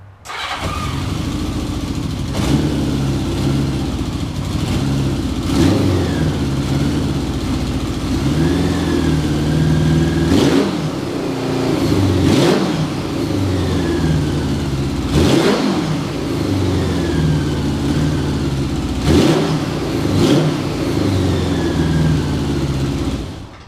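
A Honda Goldwing motorcycle engine starts and idles steadily, with several sharp throttle blips revving it up at intervals, loud and close, with no talking.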